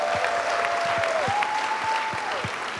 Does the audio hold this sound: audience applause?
yes